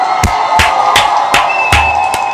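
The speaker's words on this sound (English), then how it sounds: "Let's give Donald Trump a round of applause" Crowd at a political rally cheering and whooping in repeated bursts of applause, loud and near, with a steady murmur between the swells.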